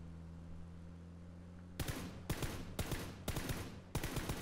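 Gunfire in PlayerUnknown's Battlegrounds starts after a quiet stretch, with five loud, rapid bursts of automatic shots coming in close succession.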